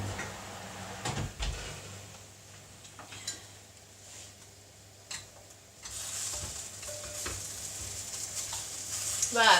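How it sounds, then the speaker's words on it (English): Cooked ribs sizzle faintly in a pan while being stirred, with soft scraping and occasional clinks of utensils against the pan amid a steady low frying hiss. "Right, I've just got my ribs out and I'm just giving them a little stir."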